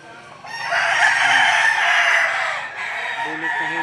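A rooster crows loudly and close at a poultry market, one long sustained call rising over the clucking of several other chickens nearby, with fainter crowing and flock noise continuing after it ends.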